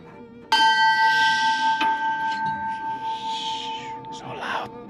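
An old bell in an automotive museum rings out with one loud strike, leaving a long, bright, sustained ring that slowly decays. A second, softer tap follows, with faint voices and room noise underneath.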